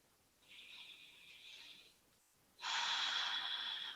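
Breath during a gentle side-bending yoga flow, close and soft: one long airy exhale, a short pause, then a stronger, louder breath that holds for more than a second.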